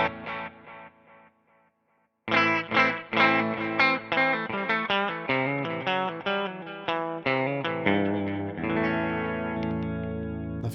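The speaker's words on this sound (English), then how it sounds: "here's the delay by itself." An electric guitar through a delay effect on a HeadRush pedalboard plays a run of clear, distinct plucked notes, each trailed by echoing repeats, ending on a sustained ringing chord, with no voices.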